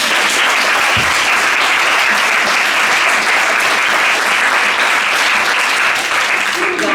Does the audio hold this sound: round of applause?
yes